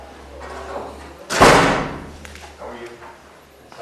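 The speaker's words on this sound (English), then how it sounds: "That's how we shut doors around here." A single heavy door slams shut in a hearing room, one loud sharp bang that rings briefly and fades, with faint room murmur before and after.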